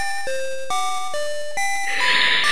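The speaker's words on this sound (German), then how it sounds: "Und mein Timer klingelt" A kitchen timer rings with a series of clear, loud electronic tones in a stepping melody, ending in a brighter buzzing burst, with no speech.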